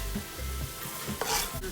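Chopped ingredients hit a hot goulash pot and sizzle, with stirring scrapes and a brief burst of louder frying near the end, close and short.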